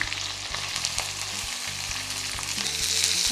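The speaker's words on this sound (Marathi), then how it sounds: "ह्याच्यात आपण हिरवी मिरची टाकतो कढी टाकता आणि कांदा" Green chili, curry leaves and onion fry in hot oil for a potato bhaji, a loud continuous sizzle with crackling spits and a low background hum, no voices.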